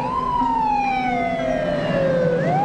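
An ambulance siren wails steadily, its tone sliding slowly downward before rising again at the end, loud and close over low road rumble.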